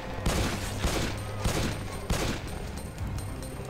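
Rapid gunfire from the video game Resident Evil During the Storm, several loud bursts of shots repeating through the stretch, dense and close with no voice over it.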